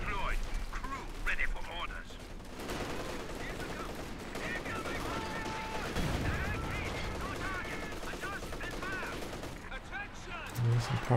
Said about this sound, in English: what's that howitzer fire from the base artillery?